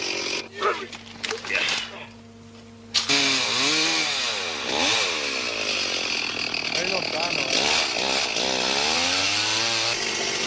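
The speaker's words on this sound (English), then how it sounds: "If it's not the buzz of chainsaws, it's the thud of hand axes which reverberates around the still mountains." Chainsaws buzz through jungle in Sulawesi during the 1988 Camel Trophy, a steady loud whine rising and falling in pitch as they bite into wood, with scattered knocks and voices talking early on.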